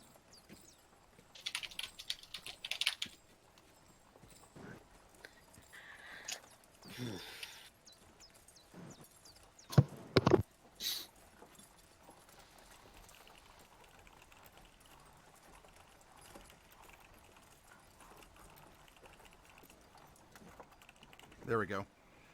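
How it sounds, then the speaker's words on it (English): Sporadic bursts of typing on a computer keyboard, quiet and close, with scattered clusters of key clicks separated by pauses. "I'm typing something out for you here."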